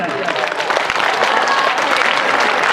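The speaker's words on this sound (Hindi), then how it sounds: "इस दिन के लिए बहुत ही शानदार तालियां बजाएं।" Audience at a school camp closing ceremony clapping, a dense, loud and continuous wash of applause from a large crowd that keeps up evenly from start to finish.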